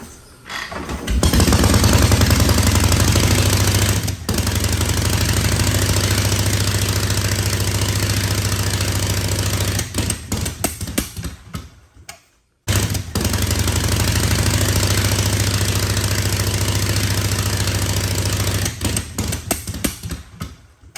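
Harley-Davidson Knucklehead chopper with a kick start and half-closed choke catches and runs, a loud close rapid engine rumble that continues steadily, cuts out briefly near the middle, then resumes running.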